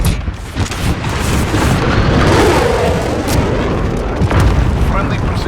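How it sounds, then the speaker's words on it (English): Precision airstrike in a video game, a dense run of heavy booming explosions and rumbling blasts lasting several seconds, loud and close. "Friendly precision airstrike"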